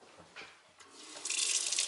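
Lukewarm tap water runs into a container, starting with faint splashes and trickles and then rising into a steady, close hiss of flowing water.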